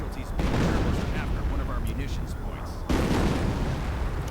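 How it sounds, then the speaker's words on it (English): Artillery fire in a Company of Heroes-style World War II strategy match lands as dense, rumbling booms and crackling blasts, with a fresh loud burst near the end, all under continuous commentary. "there we go, artillery right on the Pack 38"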